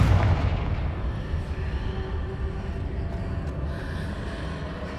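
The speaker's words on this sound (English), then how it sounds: "Confringo!" A Confringo spell explodes in Hogwarts Legacy with a heavy booming blast that rolls off into a long, rumbling decay, with no voices over it.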